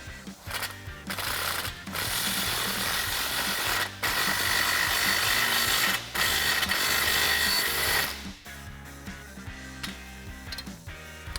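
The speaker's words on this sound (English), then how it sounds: "we're going to tighten up this clamp." A ratchet with a 15mm socket tightens an exhaust clamp on a Jeep Wrangler JL during an MBRP cat-back exhaust install, a loud rapid clicking in long runs broken by brief pauses, close and without talk.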